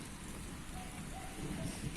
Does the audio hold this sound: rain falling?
yes